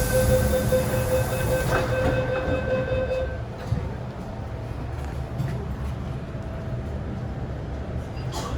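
An MTR M-train on the Tsuen Wan Line pulls away from the platform, its steady rumble of wheels and motors filling the scene, with a held door-warning tone and chime fading as the train gets underway.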